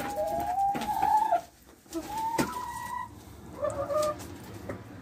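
A chicken clucks and calls nearby in short, separate bursts with brief pauses between them, over a quiet outdoor background.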